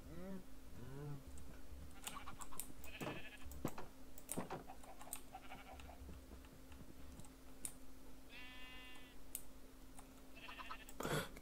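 Sheep bleating in the Minecraft video game, several short bleats scattered over ambient game sound and keyboard and mouse clicking, with a few quiet vocal noises in between.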